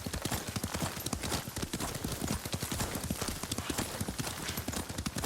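Hooves clip-clop in a quick, steady galloping rhythm as a horse is ridden in Ghost of Tsushima, the hoofbeats rapid and fairly quiet, continuing without pause.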